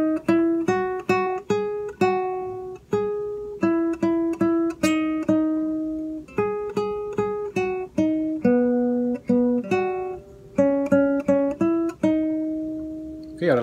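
Guitar picking out a single-note melodic phrase from a song, clean plucked notes in a lilting rhythm with short gaps between groups, close and moderately loud, played alone without talk.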